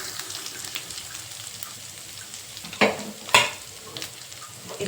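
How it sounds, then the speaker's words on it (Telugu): Ginger paste frying in oil in a pan, a quiet steady sizzle with a couple of sharper crackling bursts and stirring scrapes, no voices. "ఇప్పుడు ఇదంతా కూడా కొంచెం అల్లం పేస్ట్ ఫ్రై అవ్వనిచ్చి"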